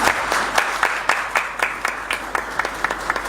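Applause at a city council session congratulating the council's women members, a small group clapping in a fairly rhythmic, close, unison beat for several seconds.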